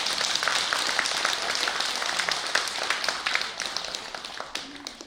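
A congregation at a Sunday Buddhist dharma service at Bongeunsa temple claps together, a dense roomful of hands that holds steady and then thins out toward the end, with no talking over it.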